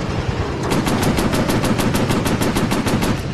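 Machine guns fire in a night-mission warplane video game, a loud, rapid, even burst of about fourteen evenly spaced shots that lasts several seconds, with no voices.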